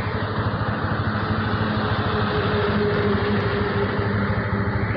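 Motorcycle riding along a congested Belgharia road in a traffic jam, a steady loud engine drone with surrounding traffic rumble continuing throughout, no talking.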